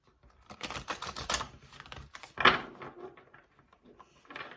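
Papery tarot cards riffled and shuffled in quick bursts, with soft snaps and rustles close by, one sharper flick standing out midway.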